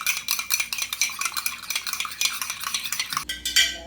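Eggs with pepper beaten briskly in a bowl: rapid, rhythmic clicking strokes against the bowl, close and continuous, ending with a brief louder clatter and no talking.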